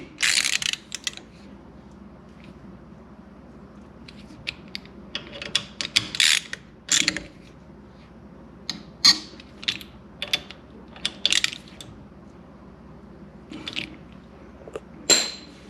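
A wrench tightens the small side bolts on Wunderladen Racing 6-pot bolt-on brake calipers, with bursts of close, crisp ratcheting clicks separated by short pauses, no speech.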